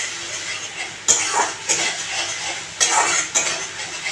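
A spoon scrapes and stirs thick Bengali-style yardlong bean paste in a pan, with several sharp scraping strokes separated by brief pauses over a soft background hiss.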